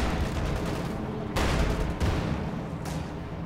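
Field gun and tank cannon fire in the Company of Heroes 2 battle, heard as a dense continuous rumble of gunfire with three sharp louder blasts roughly half a second to a second apart.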